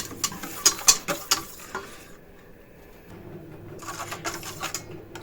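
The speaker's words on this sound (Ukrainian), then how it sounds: "Взбиваємо вінчиком." A whisk beats a salted mixture for meat Viennese waffles, giving quick bursts of close, rapid tapping clicks, a quiet pause, then another run of lighter strokes.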